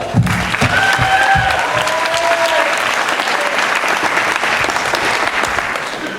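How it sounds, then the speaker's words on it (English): Wedding reception guests break into steady, sustained applause that fills the room for several seconds, with a few brief cheers rising over the clapping. "So a round of applause for them."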